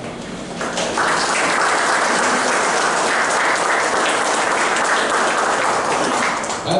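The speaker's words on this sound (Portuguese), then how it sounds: "Agora uma salva de palmas para" Sustained applause from a debate audience, rising suddenly after a brief quieter lead-in and holding a loud, dense, even wash of clapping to the end.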